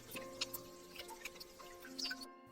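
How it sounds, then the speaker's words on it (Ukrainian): Melting snow sends water dripping from roofs in early spring, with sparse, irregular light drips and ticks spaced through the clip over a quiet background, faint and close. "З дахів крапають кришталеві крапельки води."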